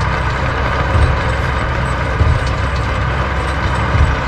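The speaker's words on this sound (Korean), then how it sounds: "이놈의 엔진 소리 때문에 하나도 안 들려요" Tank engine running in an ArmA 3 World War II night battle, a steady low rumbling drone that fills the clip with faint periodic surges, loud and continuous with no talk over it.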